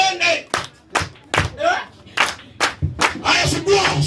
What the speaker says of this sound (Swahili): sugua makofi, sugua mikono hiyo